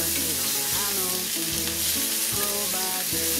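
Spaghetti squash sizzles and fries steadily in a pan, a close, continuous crackle with faint rhythmic scraping or stirring every second or so and no talking.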